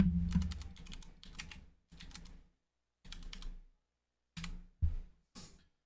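Fingers type on a computer keyboard in several quick bursts of close, crisp key clicks, each separated by short pauses of silence.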